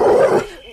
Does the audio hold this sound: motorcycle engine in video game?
no